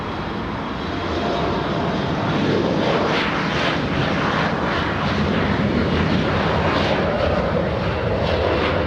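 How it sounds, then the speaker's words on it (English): An Embraer E-175 jet takes off from LAX, its engines building quickly into a loud, sustained roar that stays close and strong throughout, alone without voices. "We have a little E-175 flying to the city of Sacramento, California"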